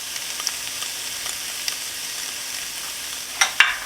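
Onion and garlic sizzle steadily in a pan for a 1960s baked clams dish, a constant crackling hiss with a few sharper pops and stirring clatters near the end.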